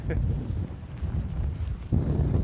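Steady wind buffeting the microphone on a seaside pier with a low rumbling roar, constant and fairly loud, no other clear sounds.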